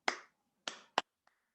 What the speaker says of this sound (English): just clap the rhythm